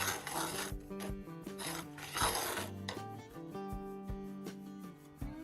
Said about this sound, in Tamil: லைட்டாக ரவை வறுத்தலாம், கலர் சேஞ்ச் ஆக தேவையில்லை, லைட்டாக வறுத்தா போதும்